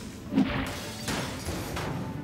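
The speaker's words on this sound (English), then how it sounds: "I'm gonna have to break some glass to get things done." Glass smashing in the video game Quantum Conundrum: a single faint crash with a brief shatter, followed by a couple of softer knocks and swishes.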